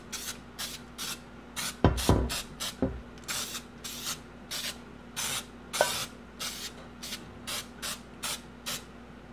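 Baker's Joy baking spray is squirted into a bundt cake pan in a string of short, close hissing bursts, some quick pairs and some longer blasts, with light clattering of the can and pan early on.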